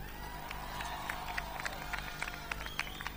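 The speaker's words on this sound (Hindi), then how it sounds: "एक जोरदार तालियां," Audience clapping and cheering for a performer on a comedy stage show, a faint, dense patter of hands running steadily for a few seconds in the background.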